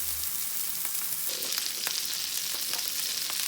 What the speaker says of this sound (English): My sausage here is cooking.